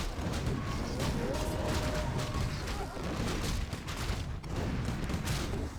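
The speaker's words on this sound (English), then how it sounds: "Rifles do way too much damage on this Kodo." Riflemen firing at a Kodo beast in Warcraft III: rapid, overlapping rifle cracks blur into a steady clatter inside a busy mix of battle noise, fairly faint throughout.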